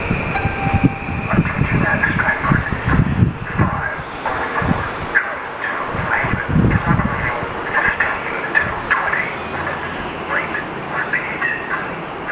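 A Metro North commuter train passes at Stratford with loud rhythmic wheel clatter and rumbling, strongest early and then easing off, with a faint tone lingering near the end.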